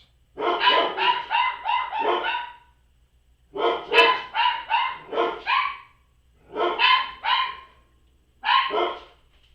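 A dog barks outdoors in four quick bursts of several barks each, separated by short pauses, fairly close and clear with no talking.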